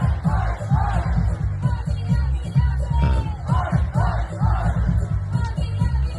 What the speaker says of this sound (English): And look at that crowd.